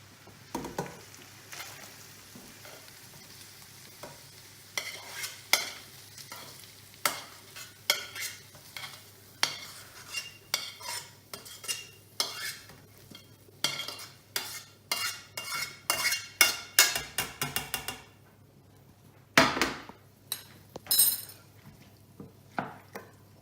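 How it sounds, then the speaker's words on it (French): Ground meat gets stirred into lasagne sauce in a pan, with quiet scraping and repeated light clinks of a utensil against the pan, the taps coming faster near the end. "Maintenant, je mélange la viande dans la sauce"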